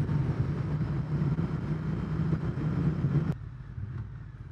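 A Triumph Speed Twin 900 motorcycle rides along with a steady rumble mixed with road and wind noise, then the sound drops abruptly to a quieter low hum near the end.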